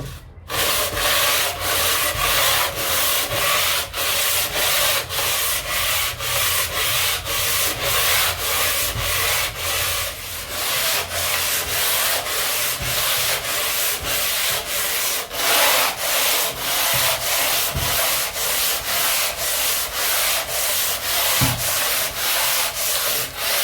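A grit oil whetstone is rubbed back and forth on sandpaper to flatten its surface, in a steady, rhythmic scraping, close up and continuous with no talking.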